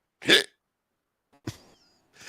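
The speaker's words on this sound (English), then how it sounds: "the one guard just had hiccups" Two or three sharp, isolated hiccups break out of near silence, close and fairly loud, with gaps of about a second between them.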